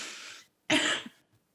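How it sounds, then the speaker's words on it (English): A close, harsh cough burst during a school board meeting, a brief pause, then another raspy cough trailing off. "I'm having a coughing fit."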